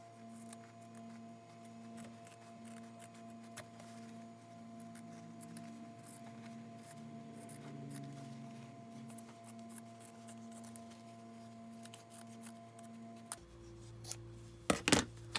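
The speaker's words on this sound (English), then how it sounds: "And let's cut this pocket" Scissors snipping through a fabric pocket at close range, quiet and steady small cuts over a faint background hum, with a few sharper clicks of the blades near the end; no talking.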